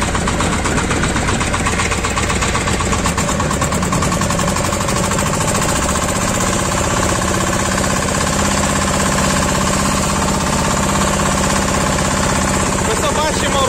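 A Shifeng mini tractor ploughing a sloped garden plot, its engine loud and close with a steady knocking, vibrating diesel chug and a constant rattling drone throughout, no talk audible over it.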